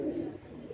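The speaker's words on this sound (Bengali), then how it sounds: "আপনারা লক্ষ্য করেন, অনেক সুন্দর কবুতর।" Large pigeons for sale give a low, soft cooing call close by, a brief throaty warble that rises and falls twice.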